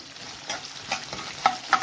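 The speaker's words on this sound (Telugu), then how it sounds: "కొంచెం మెంతులు ఇవి వేసుకొని పోపు వేసుకోవాలి" Fenugreek seeds and lentils fry in oil with asafoetida for a tempering, a soft crackling sizzle broken by several bright clinks and scrapes of a spoon stirring in the pan.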